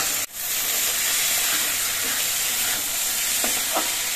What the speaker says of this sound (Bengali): চালটা দিয়ে অন্তত মিনিট 5 মতো ভেজে নিতে হবে।